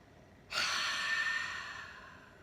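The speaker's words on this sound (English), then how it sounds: "Little breath in" A single short breath drawn in through the nose during a breathing exercise. It starts abruptly, stays soft and close, then tapers off gradually over about two seconds.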